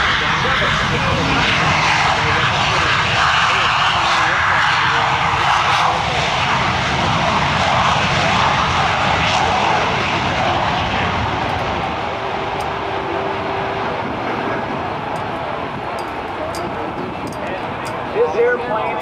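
An F-117 Nighthawk jet roars past at the 2007 Dayton airshow, a loud, broad engine rush that holds strong and slowly fades toward the end, with an announcer's voice underneath.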